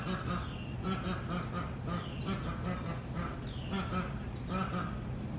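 Wendy, a pet bird in a backyard garden, squawks repeatedly while guarding her water from other birds, loud harsh calls over a busy, noisy outdoor background.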